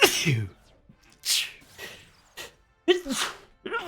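A single sharp sneeze bursts out near the microphone, followed by short speech fragments and quiet breaths.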